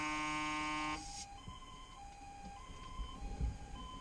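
A fire engine siren on the A2 motorway toward Warsaw, Poland, at a collision scene, wails with steady high tones, then cuts to an alternating two-tone pattern that repeats over rumbling traffic.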